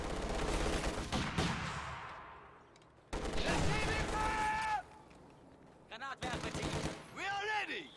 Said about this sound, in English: Small arms fire. Infantry contact.